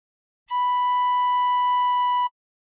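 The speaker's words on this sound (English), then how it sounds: "Uncover all the holes and soft blow once." A tin whistle sounds one soft, steady note with all six holes open, held evenly for nearly two seconds with no other sound around it.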